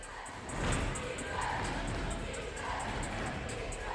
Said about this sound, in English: Listen to those defense chants